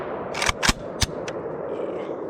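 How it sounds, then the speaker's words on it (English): Beryl M762 rifle firing the last of its magazine outdoors, several sharp, loud shots in a quick irregular burst, followed by a lingering rumble and faint echo. "Beryl-762, last mag. Let's see about the fireballs."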